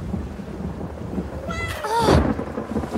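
A thunderstorm with rain in a children's pirate cartoon: steady rain hiss gives way to a loud, close rumbling thunderclap midway, with a short vocal exclamation rising over it.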